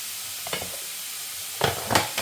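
Butter sizzling in a hot pan for beef steak, short crackling bursts with soft stirring scrapes, close and fairly quiet, no talking.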